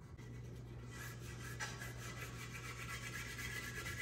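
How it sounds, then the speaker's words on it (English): A garlic clove is rubbed repeatedly over the dull, non-glossy part of a surface, a faint, close, scratchy rasping that continues steadily over a low constant hum. "we're gonna take the garlic and rub it all around the part where it's not glossy and the bottom right here"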